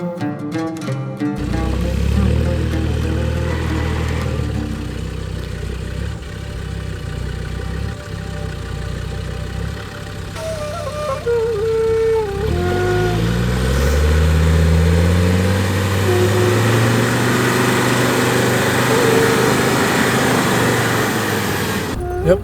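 A car engine idles and then revs repeatedly as the vehicle drives onto really muddy ground, rising and falling pitch sweeps building to loud, strained revving near the microphone.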